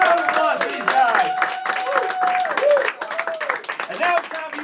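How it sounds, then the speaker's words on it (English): An audience claps for a sailing circus variety troupe at a magic venue, the applause partly masked by loud whoops, cheers and voices on top. "Big round of applause for these guys."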